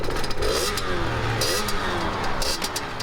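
A 2020 Sherco 50cc two-stroke supermoto launches hard, its small engine revving high and buzzing continuously close by for the whole stretch, with no talking.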